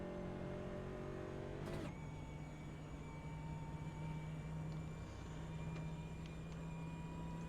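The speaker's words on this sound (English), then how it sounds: "you can hear the motor's still running at least" A race car engine in a sim racing game at Auto Club Speedway keeps running after a crash, a steady droning hum with sustained tones. A brief loud burst comes near the start, then the engine holds an even, continuous tone.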